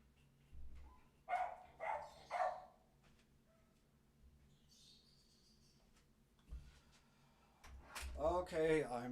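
A pet dog gives three quick barks indoors in a quiet room, followed by a short rustle and then a person speaking.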